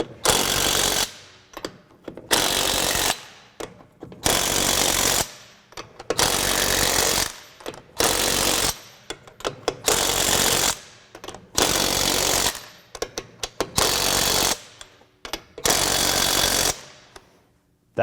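A Craftsman V20 RP brushless 1/2-inch drive impact wrench running at its level 2 setting, with about nine loud hammering bursts of a second or so, each separated by short silent pauses.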